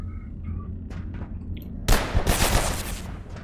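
A gun in the game Abiotic Factor opens fire after a quiet moment: a sudden dense burst of rapid shots, loud and close, with booming impacts rolling on until the end.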